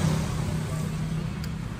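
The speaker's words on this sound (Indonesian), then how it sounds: "ini agak-agak bising karena pinggir jalan" Steady roadside traffic rumbles beside a satay stall, with a continuous low engine drone and passing cars close by, loud and unbroken.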